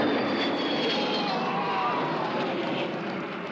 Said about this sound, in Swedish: flygplanen var i luften.